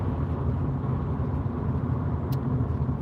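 Steady road and engine rumble from a car driving through Manchester traffic at night as another vehicle overtakes, a constant close drone with no voices.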